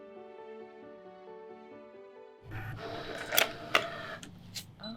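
A ScanNCut cutting machine finishes cutting a vinyl stencil with a few short mechanical clicks, whirs and knocks at close range after a soft tonal hum.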